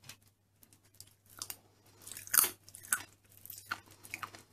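Close-up crunchy chewing of popping candy, with small sharp crackles and pops bursting through, irregular and fairly quiet, with no talking.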